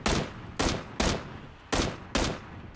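Five loud, evenly spaced gunshots in the video game PUBG, each a sharp close crack with a short decaying tail, fired at roughly half-second intervals.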